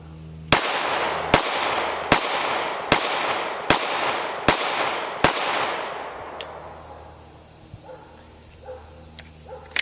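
Glock 17 Gen 1 pistol fired at a range: seven loud, sharp gunshots about 0.7 seconds apart, each with a ringing decay, followed by a few fainter clicks and shuffling after the string ends.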